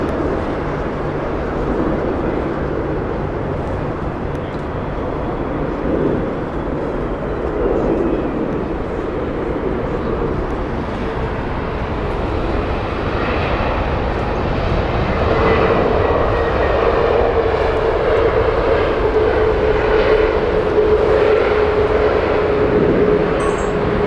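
A British Airways aircraft in Better World livery at Heathrow Airport, a loud steady jet roar that swells gradually and holds, with a rising engine whine, heard from nearby without any talking.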